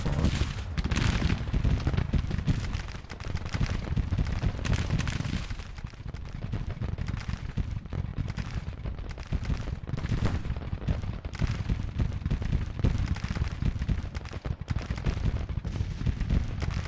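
Artillery and rifle fire crackle and boom in the American Civil War strategy game Grand Tactician, with dense, continuous volleys of shots and bursts layered on one another throughout.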